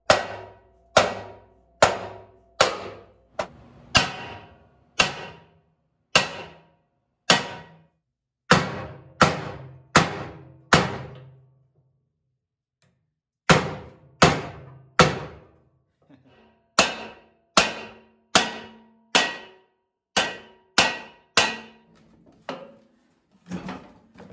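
Repeated sharp metallic hammer blows on the axle shaft of a 25-year-old MTD Yard Machines snow blower, in bursts of several strikes, loud and close, with a brief pause before the hammering resumes.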